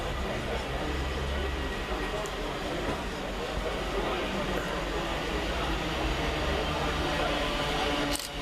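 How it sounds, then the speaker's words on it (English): A Govia Thameslink Class 700 electric train runs through Flitwick station, a continuous broad rumble and rush of wheels and motors holding steady at close range, with a brief squeal near the end. "coming in the opposite direction is 700-149, working the 1216 Govia Thameslink service from Bedford to Gatwick Airport via London St Pancras and Red Hill"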